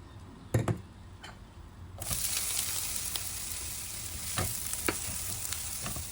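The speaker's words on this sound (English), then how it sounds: "We're going to saute our Luffa gourd." Luffa gourd hits hot oil and is stir-fried in a pan: after a few dry clicks, a loud, hissing sizzle suddenly starts and holds steady, broken by periodic scraping strokes of the utensil, close up and without voices.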